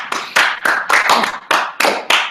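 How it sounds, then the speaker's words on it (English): A single person clapping close by, about nine crisp claps in a loose, slightly uneven rhythm. "Round of applause for astrophysicists."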